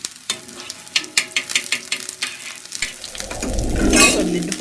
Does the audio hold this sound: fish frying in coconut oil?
yes